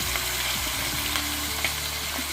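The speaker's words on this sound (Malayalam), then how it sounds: "നമുക്ക് മാരിനേറ്റ് ചെയ്ത് വെച്ച് വറുത്തെടുക്കാം എണ്ണ ചൂടായിട്ടുണ്ട്" Marinated chicken fries in hot oil outdoors, giving a close, continuous crackling sizzle with faint stirring scrapes and occasional pops.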